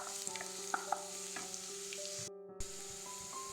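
Onions frying in a pan, kept light rather than browned, give a steady close sizzle with occasional soft clinks and scrapes, briefly dropping out near the end before the frying resumes.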